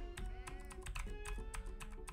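Typing on a noisy, clicky computer keyboard: quick, irregular bursts of sharp keystroke clicks over a faint steady background tone, close and fairly quiet.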